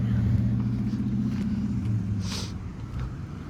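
Road traffic passes a railroad crossing with a continuous low engine rumble and a faint whoosh from a passing vehicle, steady and fairly close throughout.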